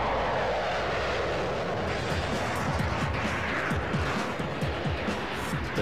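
Lockheed F-22 Raptor stealth fighter jet engine at Edwards Air Force Base, a loud, steady roaring rush with a throbbing low rumble beneath it, sustained throughout without any voices.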